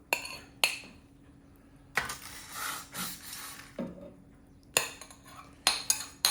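A hot dish of rollatini handled in a kitchen beside a toaster oven, with several sharp clinks and knocks of the dish and utensils and a softer scraping between them, close and moderately loud, with no talk.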